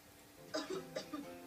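Two sharp, fairly loud coughs close by, each a short burst, separated by a brief pause over a quiet background.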